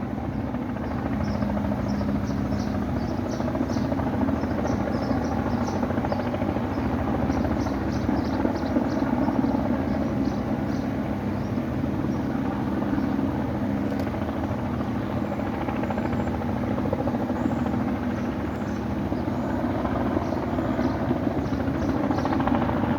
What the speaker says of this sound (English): So you get about 3 helicopters in the sky